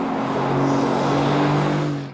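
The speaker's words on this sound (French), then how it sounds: "profiter pleinement des vocalises naturelles du V8 par une dérivation du système d'échappement" A Mercedes-AMG GT S V8 drones steadily through its bypassed exhaust with a low, even hum, loud and close, held for about two seconds before fading slightly.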